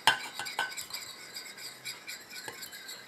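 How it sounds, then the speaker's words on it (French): A utensil stirs a cosmetic cream emulsion in a container while the water phase is poured in very slowly, giving faint, irregular light clinks and scrapes close by over a quiet background. "Et je rajoute ma phase aqueuse tout en mélangeant et en versant vraiment très lentement."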